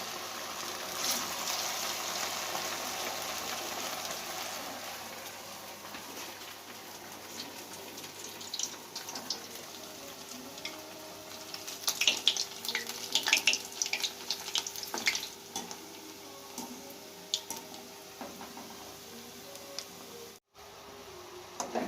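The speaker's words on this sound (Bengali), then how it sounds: "একসঙ্গে বেশি দিয়ে ভাজা যাবে না, অল্প করে দিয়ে ভাজতে হবে।" Sweet pitha made from new-season flattened rice frying in a small batch of oil over low heat, a soft continuous sizzle and crackle that stays steady and close, with a few brighter pops, and no voices.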